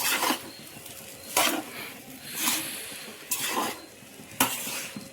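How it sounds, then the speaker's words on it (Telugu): Homemade fried rice tossed in a hot pan, a steady sizzle punctuated by five loud, rhythmic scrapes of a spatula against the metal, with no one speaking. "ఇప్పుడు బాగా పట్టేదాకా తిప్పుకుందాం, అది బాగా కలిసేదాకా."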